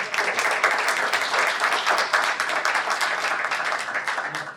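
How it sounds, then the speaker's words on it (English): Audience applause at a public history lecture on northwestern Pennsylvania, a dense continuous wash of many hands clapping at moderate loudness, steady throughout and tapering slightly at the end. "If we could give them a round of applause and in gratitude."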